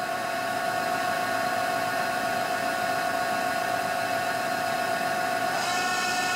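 Spindle of a Kitamura Mycenter 2 vertical machining center turning at 1000 RPM: a steady, loud mechanical hum and whine that holds constant, with a brief higher tone shifting near the end and no voices.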